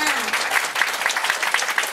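A small group claps for a couple of seconds, the claps fairly even and close, with a voice briefly audible at the start.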